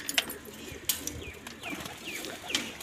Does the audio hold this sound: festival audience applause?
no